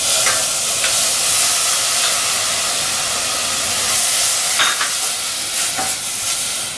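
Garlic and onion sauté in olive oil in a saucepan, giving a loud, dense, steady sizzle heard up close and alone, with a few faint stirring clicks scattered through it.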